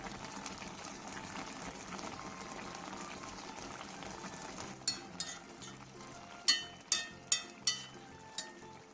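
Braised tofu simmers in broth in a pot, bubbling steadily and close by, with several sharp clinks of a utensil against the pot near the end.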